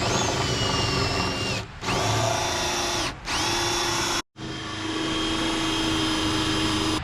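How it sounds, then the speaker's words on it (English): A hole saw on a power drill bores a circle through a door in three loud, whining bursts, each briefly stopping before the steady high-pitched spin resumes up close. "now we're going to do this interior circle. But for that, we'll need a different hole saw"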